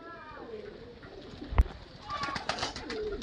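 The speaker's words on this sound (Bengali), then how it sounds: "পায়রাগুলো তো আমরা ধরে দেখলাম" Pigeons coo at a market selling them cheaply, low soft calls under background chatter, with one sharp nearby thump midway.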